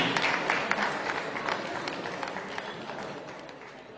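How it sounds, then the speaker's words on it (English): A crowd applauds a Real MC nominee at the 2018 VGMA nominees announcement, loud dense clapping that stays steady across the whole stretch and slowly tapers. "A round of applause for Real MC."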